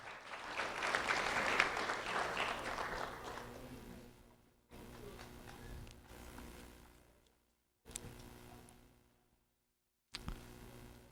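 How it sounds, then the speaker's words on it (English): A burst of clapping from a small crowd honoring a 4th grade student swells, then fades, followed by a few scattered quieter claps separated by brief silences. "a round of applause for Joshuan Lopez"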